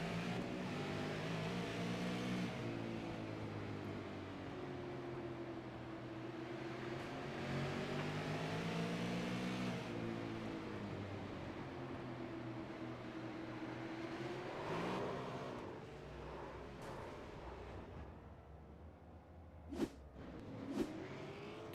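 Late model race cars roar up to speed together at the green flag at Hickory Speedway, a loud sustained engine drone rising and falling in pitch as the pack passes, with a few sharp clicks near the end.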